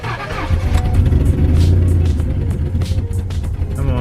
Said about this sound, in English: every time I tap the gas, it just turns off